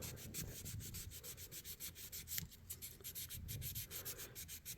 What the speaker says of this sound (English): it's a little stronger of a sandpaper than the 600, so we'll use it just a tad bit longer maybe